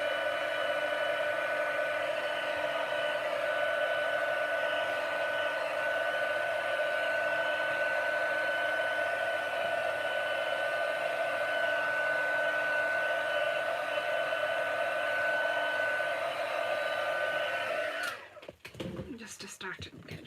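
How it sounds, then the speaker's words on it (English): A heat gun blows over a freshly stamped card at a papercraft table, a steady loud whooshing hum with a constant tonal whine lasting about eighteen seconds before cutting off into a few handling clatters. "I'll give it a bit of a heat gun to sort of set it on its way."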